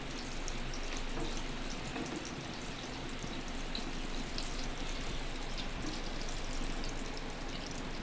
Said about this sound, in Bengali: একে একে ডিমগুলো হালকা ভেজে তুলে নিচ্ছি।